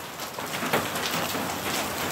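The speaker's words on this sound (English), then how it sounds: "what you're hearing right now, that's like quarter size in diameter size hail" Quarter-size hail falling in Houston, heard as a dense, steady patter of hard impacts close by, continuous with no talking over it.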